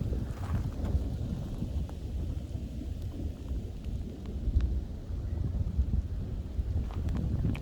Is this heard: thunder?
yes